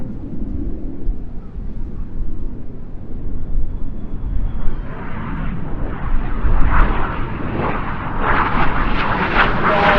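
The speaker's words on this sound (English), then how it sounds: "Each aircraft will perform a barrel roll, passing in the middle 30 metres wingtip to wingtip" Red Arrows display jets roar past at an airshow, a broad rumbling engine noise that swells and hisses brighter toward the end as the aircraft draw near, with faint commentary underneath.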